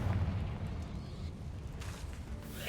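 Confringo fire spell blasting in the Hogwarts Legacy video game, a dense rumbling explosive burst with heavy low-end boom, loudest at the start and sustaining as a continuous roar throughout.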